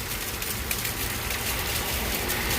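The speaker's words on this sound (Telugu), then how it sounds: "నిన్న నుంచి కురుస్తూనే ఉంది వర్షం," Steady rain falls in Kuwait during a stormy spell, a dense continuous hiss of drops on surfaces with no break and no voices over it.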